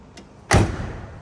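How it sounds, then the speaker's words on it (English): A car door shuts on a 1967 Chevrolet Camaro SS 396, a faint latch tick followed by a single solid, loud close-range thud that decays quickly. "Door closes nicely."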